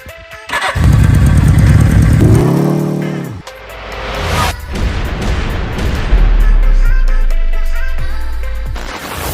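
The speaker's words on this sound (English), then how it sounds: "This is a 1983 750T GS made by Suzuki." A 1983 Suzuki GS 750T motorcycle engine cranks with a whirring starter, catches, and settles into a loud close running rumble with blips of throttle.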